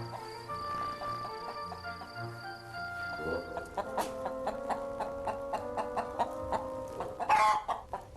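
Hens clucking and murmuring close by, with a few sharper squawks toward the end over a quiet barnyard background.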